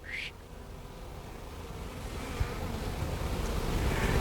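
Honeybees hum softly around an open hive frame holding honey, nectar, pollen and brood, a faint steady drone that swells slightly toward the end, with a brief light knock partway through.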